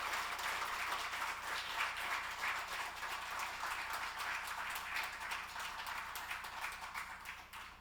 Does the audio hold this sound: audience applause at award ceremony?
yes